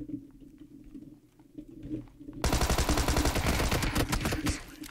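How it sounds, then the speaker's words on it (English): Rapid video-game gunfire erupts at full volume halfway through, a dense burst of shots aimed at the player after a quieter stretch of low ambient game sound. "Oh! Who is shooting me?"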